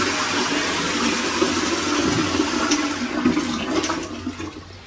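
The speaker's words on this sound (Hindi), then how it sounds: "अभी इसको फ्लश करेंगे" A toilet flush tank empties in one continuous rushing gush of water, close and fairly loud, then tapers off as the tank starts to refill.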